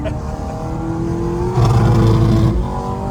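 A BMW M3 engine revs while driving and swells louder in the middle before easing off, with a brief voice over the engine.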